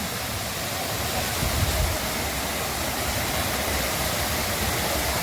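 A waterfall runs into a pool through a pipe, giving a loud, steady broadband rush of falling water that fills the whole clip close up, with no voices over it.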